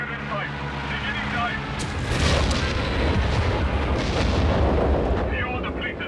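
Dive-bomb strike in Company of Heroes 3 hitting US tanks, a Bulldozer and an Easy 8: loud, dense rumbling blasts and booms in a continuous barrage with a heavy low roar, mixed with other battle noise and a voice talking over it.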